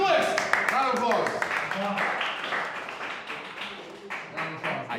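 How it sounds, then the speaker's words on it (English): A small group claps in a loose round of applause at a learning center, scattered hand claps mixed with overlapping talk and laughter close by. "Round of applause."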